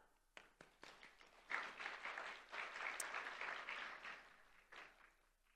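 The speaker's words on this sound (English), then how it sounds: "let's give ourselves another big round of applause" Applause from a conference audience at an ASEAN gathering on combatting plastic pollution in Kuala Lumpur, opening with a few scattered claps and then swelling into steady, fairly distant clapping from a large room before tapering slightly.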